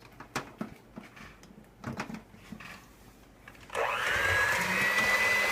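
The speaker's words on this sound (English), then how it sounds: "So now I'm going to plug in my mixer and cream this." An electric hand mixer creaming butter and sugar for crescent-moon butter sugar cookies starts up after a few seconds of handling clatter, then runs as a steady, loud whirring drone to the end.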